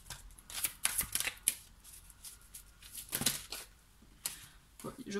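Oracle cards are shuffled and drawn, making soft papery riffles and slaps in irregular bursts with quiet gaps between them, close and fairly faint.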